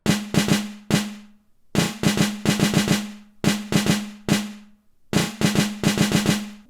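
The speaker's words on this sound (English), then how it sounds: "the beginning intro snare, which is gonna sound like this." Intro snare from a trap-style beat: repeated sharp, bright snare hits in quick rolling clusters with a low tonal body, arranged in short bursts separated by brief gaps, loud and dry with no talking.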